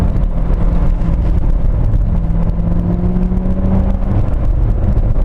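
A 2017 Chevrolet Corvette Grand Sport engine drones steadily and loudly up close, its pitch rising gradually as it revs, with no voices.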